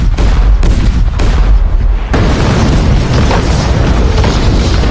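A loud, dense roar of booming Japanese cannon fire in a Korean film battle scene, with a sharp heavy burst midway, rumbling continuously up close.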